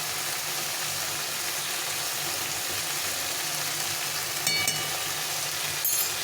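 Pointed gourd seasoned with salt and turmeric fries in a pan, a steady close sizzle with soft hissing and a couple of brief sharper spatters, no talking over it.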